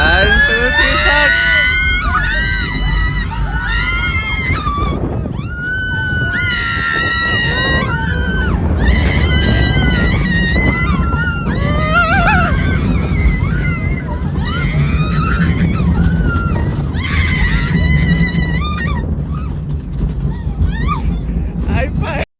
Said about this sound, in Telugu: let's start our roller coaster ride